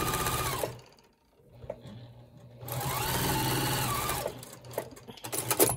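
A sewing machine stitches quilt rows of hourglass blocks together in two steady motor bursts separated by a short pause, close and alone with no talk.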